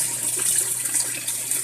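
Water pours steadily inside a Frigidaire Gallery washer during a leak test, a continuous, fairly loud hiss and splash without pause.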